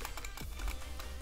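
Rapid keystrokes on a computer keyboard, a steady run of close, crisp clicks over a low background hum, with no voices.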